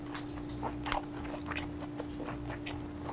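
Someone eating a spoonful of teriyaki chicken with rice and broccoli, with close, soft chewing and biting sounds in a steady rhythm over a faint background hum.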